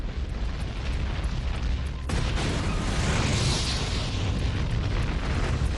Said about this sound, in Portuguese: A força da explosão é mais que suficiente para romper o tanque.